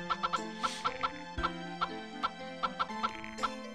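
Chickens cluck in the Nintendo 64 farming game Harvest Moon 64 as a series of short, evenly spaced clucks over a steady synthesized music track, with no voices.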